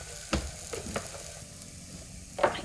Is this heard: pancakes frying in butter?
yes